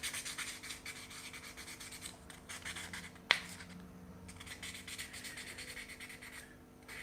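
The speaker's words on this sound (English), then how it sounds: "I'm using more sandpaper than my tools because I want to make it smooth" Sandpaper rubs a small coffee spoon carved from soft wood, making a faint, close scratchy rasp in short strokes that pauses now and then, with one sharp tap partway through and no voices.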